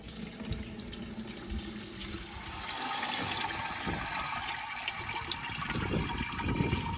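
Soaked lentils and their water pour into a strainer in a village kitchen, a steady close splashing rush that grows fuller midway and continues with gurgling trickles.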